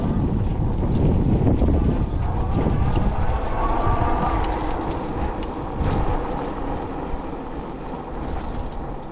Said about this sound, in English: The wind is going to be pretty bad up here because we're on a plateau, up on a hilltop.